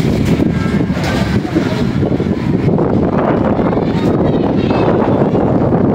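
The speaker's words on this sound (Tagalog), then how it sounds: "Grabe lakas ng hangin dito sa loob mga kalapatids." Loud, steady typhoon wind roars inside a pigeon loft and buffets the microphone continuously, a dense rumbling gust noise with no letup throughout.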